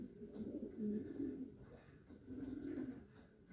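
A racing pigeon at a large breeding loft coos in low, soft repeated pulses, with two or three throaty bursts at close range over faint background noise.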